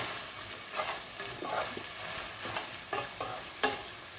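Eggplant sautéing in a pan for a village-style kuzhambu gives a soft, steady sizzle, broken by several scraping stirs of a spoon against the pan at irregular intervals, close by and with no talking.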